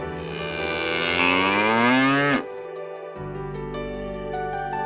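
A long, loud moo from an animated cartoon cow swells and slides upward before cutting off abruptly. Soft background music continues afterward, and no one speaks.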